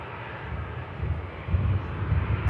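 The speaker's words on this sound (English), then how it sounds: "this Ryanair here. Heading out to Lanzarote, down in the Canary Islands" A Ryanair airliner departing Manchester Airport for Lanzarote, a continuous jet engine roar with low rumble that swells slightly louder toward the end, no talk.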